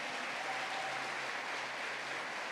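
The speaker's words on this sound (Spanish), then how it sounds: "Aplauso al Señor entonces" A congregation applauds the Lord during a church service, with a steady wash of clapping filling the whole stretch at moderate volume and no voices over it.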